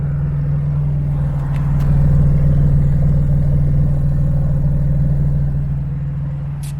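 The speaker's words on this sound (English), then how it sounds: "So this is how it sounds at idle." Infiniti G35 with a new exhaust idles steadily, a deep, even low rumble close by, running alone with no talking.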